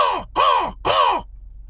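A crow gives three harsh, hoarse caws in a quick, evenly spaced series, close and loud, followed by a brief quiet tail.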